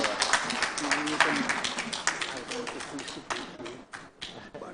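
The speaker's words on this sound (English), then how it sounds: "Another round of applause to Dr." Audience applause for a doctor at a medical academy foundation day, a dense spread of claps running the whole time, with voices calling out and talking over it as it slowly thins.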